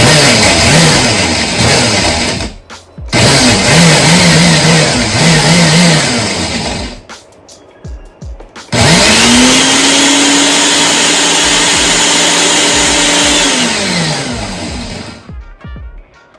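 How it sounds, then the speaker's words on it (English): A loud blender motor whirs and grinds dehydrated rosehips and dry vegetable seasoning in two bursts, pauses briefly, then runs again steadily before winding down, with no talking. "This blender is very good for grinding dry stuff."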